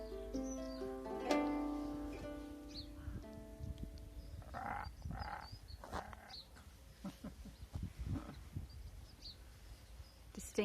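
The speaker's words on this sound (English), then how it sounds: "Distinctly heard a robin then as well." A robin and other birds sing outdoors in Welsh countryside, with clear melodic phrases early on and scattered quieter chirps and calls at a moderate distance, over a soft low background hum.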